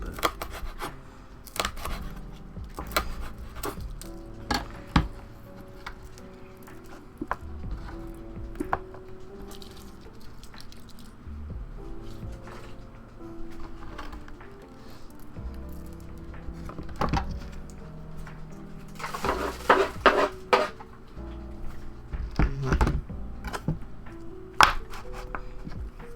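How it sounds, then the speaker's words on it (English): Knife chopping dried ingredients on a board for a Mexican lasagna, scattered irregular taps and quick bursts of cuts amid rustling, fairly quiet and close. "be a little bit more careful with these dried ones when I'm chopping them up small because they've kind of been chopping and flying everywhere"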